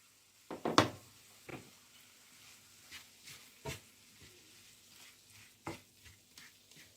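A spoon scrapes and knocks against a pan while mashed potato is stirred into a fish filling for fish and egg rolls, giving irregular close clacks over a faint sizzle with no talk.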